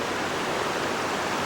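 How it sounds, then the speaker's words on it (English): Steady rushing of creek water on a farm in Cottonwood in March, a broad even wash of flowing sound with no pauses and no voices. "So here's the creek"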